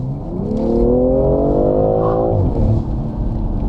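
A BMW M340i engine revs up loudly and steadily, its pitch climbing then dropping as the throttle is released, close by.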